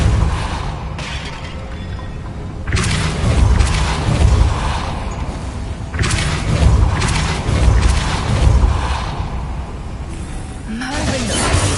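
Spell impacts from Depulso, a force-push charm cast in Hogwarts Legacy, hit as several loud, broad blasts a few seconds apart over a steady game background, with a brief voice near the end.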